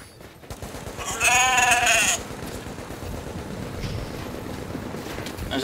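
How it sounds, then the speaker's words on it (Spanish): A goat in the video game The Division bleats once, loud and close, with a wavering cry, over a steady rumble of game background noise. "Ahí se metió la cabra, el diablo."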